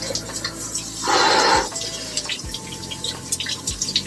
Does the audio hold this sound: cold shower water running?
yes